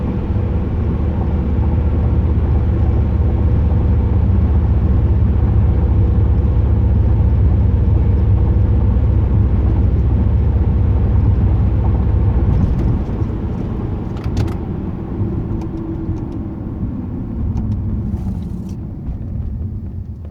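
A 2008 Pontiac Grand Prix GXP with a Thrush welded muffler, heard from the cabin while driving: a steady, deep exhaust rumble and drone that holds level, then eases slightly toward the end, with no talk.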